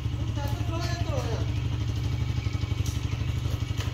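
A motorcycle engine runs at a steady, throbbing idle close by, its low rhythmic chug continuing throughout while a person talks over it.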